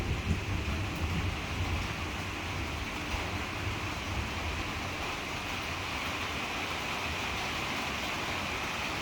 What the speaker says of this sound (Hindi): बारिश की आवाज़ बहुत सूदिंग और रिलैक्सिंग है।